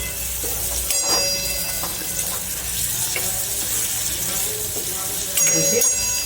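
Chopped parvar (pointed gourd) is stirred in a sizzling pan with a metal spoon, a steady frying hiss broken by intermittent scraping clinks, close and moderately loud.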